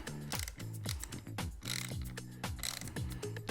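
A socket ratchet tightens a 12 mm bolt on a Royal Enfield Hunter 350 motorcycle, with rapid, close, repeated ratcheting clicks in steady strokes and a faint tonal background.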